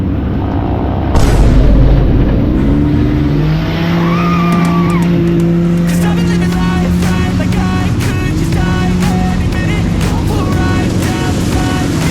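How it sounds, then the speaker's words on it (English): A tour buggy drives through muddy water on a Punta Cana excursion in the Dominican Republic, a loud engine drone with rising revs, splashing and rattling, and sharp ticking clatter near and constant. "we drive through some more muddy waters"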